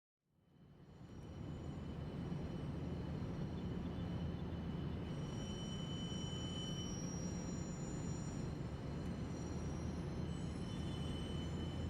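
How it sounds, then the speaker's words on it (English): A train sets off, rumbling up from silence and settling into a steady low roar of rolling wheels, with faint high squeals drifting over it. "took James's train, and set off once the guard blew his whistle and waved his green flag"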